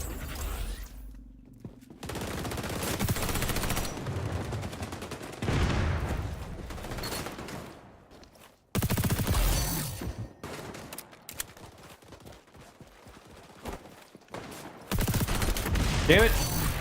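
Shotgun and automatic gunfire in the online shooter XDefiant, several loud bursts of rapid shots separated by brief quiet gaps, fairly close and punchy, with a voice talking between them.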